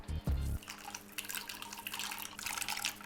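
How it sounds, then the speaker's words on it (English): LEGO studs tumble into a pool of water: a quick burst of plastic clatter followed by a run of small, close splashes and watery drips over a few seconds. "Splashing studs in a pool."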